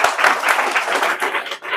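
A classroom of students clapping loudly in a quick, uneven burst, close and lively, with individual claps rising and falling over the short span and no talking.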